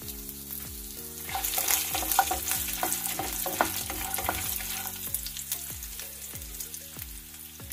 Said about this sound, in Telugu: వెల్లుల్లి వేగిపోయాక ఎండుమిర్చిపాయలు వేసుకుందాం.